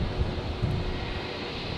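A Qantas airliner takes off from runway 01 right at Brisbane Airport at night, its engines a broad steady roar close at hand that holds level throughout with no voices.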